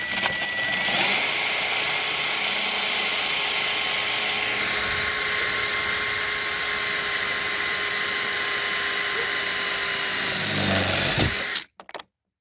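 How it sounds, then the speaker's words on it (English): A power drill bores out a hole on a KLR 650 motorcycle, a loud continuous high whine held steadily for about eleven seconds before it abruptly cuts off. "I'm going to be drilling out this hole right here."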